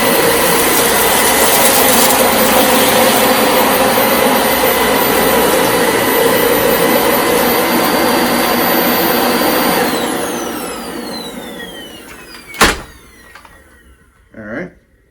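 A Dyson DC25 All Floors bagless vacuum cleaner from 2009, running on carpet with a loud, steady, close whine that cuts off, then winds down, leaving a few knocks as the machine settles.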